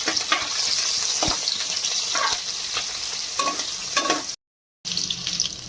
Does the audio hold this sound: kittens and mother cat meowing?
no